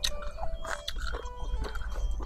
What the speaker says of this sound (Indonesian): Karena yang kecil ini betul-betul renyah ya, Pis ya.